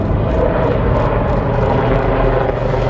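A Rudra military helicopter flies during an Indian Army exercise, its rotor thumping in a loud, steady, close drone with pulsing blade beats throughout and no speech.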